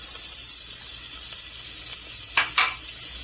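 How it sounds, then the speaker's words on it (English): Half a cup of onions sizzles in a pan with salt pork over medium-low heat for fish chowder, a loud constant hissing fry with a couple of brief stirring scrapes near the end. "I'm going to add my onions. That's a half a cup of onions"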